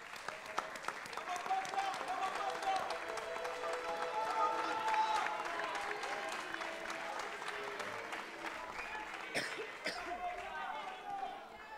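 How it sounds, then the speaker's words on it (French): A studio audience at the Vodacom Best of the Best televised talent show applauds an eliminated contestant, with sustained clapping at moderate distance and voices and musical tones running underneath. "Est-ce qu'on peut l'applaudir, s'il vous plaît?"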